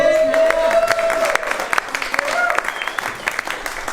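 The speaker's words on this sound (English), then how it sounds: "Round of applause for this" A crowd at an outdoor summer barbecue gathering claps in scattered, uneven bursts, with voices calling out and a whistle-like tone rising over the applause before it thins out.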